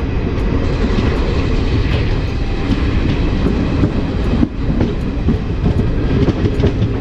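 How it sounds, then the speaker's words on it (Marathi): A passenger train leaving Sindhudurg station in Konkan for Mumbai: a loud, continuous rumble with steady clickety-clack of wheels over rail joints, heard from on board, with no voices. "माझी ट्रेन निघाली आहे मुंबईसाठी"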